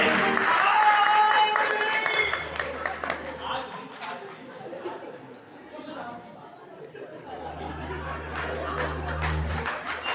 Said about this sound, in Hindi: मुझे बहुत सारी तालियों का आशीर्वाद मिला।